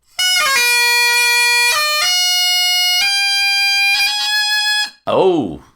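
A bagpipe chanter with a hard reed holds a loud, piercing high G, with a few short note changes over several seconds before cutting off, followed by a brief spoken voice.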